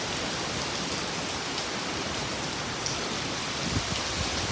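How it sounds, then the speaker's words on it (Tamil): Heavy rain pours steadily during a Hong Kong storm, a dense continuous hiss of drops on surfaces with strong wind mixed in, loud and unbroken throughout with no voices. "பாருங்கள் காற்று, அப்படியே அப்போ மழையும் காற்றும் பயங்கரமாக இருக்குது"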